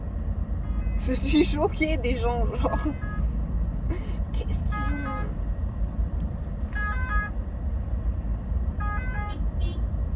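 A two-tone ambulance siren from the French SAMU service passes in street traffic, sounding in short repeated bursts amid road noise while someone talks over it throughout.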